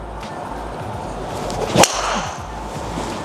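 A driver strikes a golf ball on a test drive, one sharp, loud crack of impact near the middle, followed by a soft whoosh of follow-through against quiet outdoor background.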